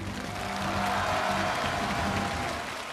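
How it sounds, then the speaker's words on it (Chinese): A studio audience on a Chinese TV challenge show applauds the three judges, a dense, even burst of clapping that swells slightly in the middle and continues without a break. "再一次把掌声送给我们的三位评委"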